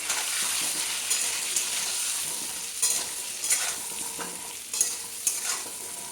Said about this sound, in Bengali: সামান্য একটু হলুদ গুঁড়ো দিতে হবে দিয়ে আলুটাকে নাড়াচাড়া করে লাল লাল করে ভেজে নিতে হবে